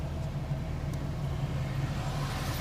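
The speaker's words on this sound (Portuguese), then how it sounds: "Olha, e tem carro atrás de mim aqui" Cars idle and creep along in a neighborhood traffic jam, giving a steady low engine rumble close by with no voices over it.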